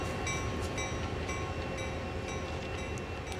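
A train rumbles steadily past in the Train Sim World video game, a dense continuous roar with metallic tonal whine and faint rhythmic clatter, loud and close throughout with no voices.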